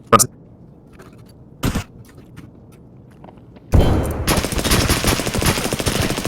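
Video game gunfire: two sharp single shots early, then a loud sustained burst of rapid automatic fire through the final seconds, with a player talking in the clip.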